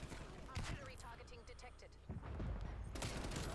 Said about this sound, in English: Artillery's coming in.